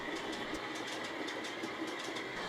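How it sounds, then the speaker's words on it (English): A model railway train hauls a rake of Pullman coaches along the track, a steady close rolling rumble with a regular clickety-clack rhythm and no voices. "The express has got clearance now, so it's Prince William again, pulling the rake of Pullman coaches"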